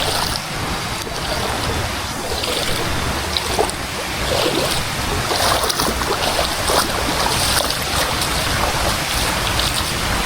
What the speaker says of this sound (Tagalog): Lumaganas ng ulan.